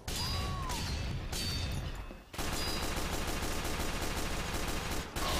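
Widowmaker shotgun in Team Fortress 2 fires amid dense game combat, loud, heavy blasts over continuous gunfire and crashes, with a brief near-silent gap in the middle before the shooting resumes.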